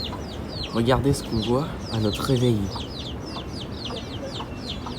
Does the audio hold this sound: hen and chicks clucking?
yes